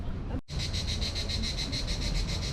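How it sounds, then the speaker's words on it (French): Crickets chirp in a steady, pulsing trill in Croatia, loud and close, after a brief break near the start, with no voices. "Les grillons ils chantent."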